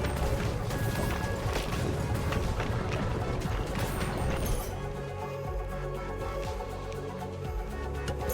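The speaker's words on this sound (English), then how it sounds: "There they go, little fireworks" Fireworks burst during play in the video game Ball x Pit, a rapid clatter of crackling pops and sharp smashes over a mechanical whirr that thins out halfway and leaves a lighter rattling tail.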